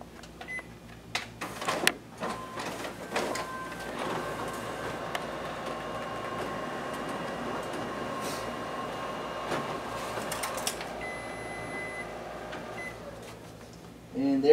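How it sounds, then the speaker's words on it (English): A Ricoh MP C4502 office copier feeds two pages through its document feeder, giving a steady mechanical whir with clicks and rollers at moderate distance, ending in a sharper clunk. "now we'll go ahead and test out the document feeder as well. We'll start out by placing our 2 test copies in the feeder face up."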